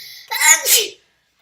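A single sneeze, close and loud, bursts out with a short sharp intake and release, alone in an otherwise quiet room.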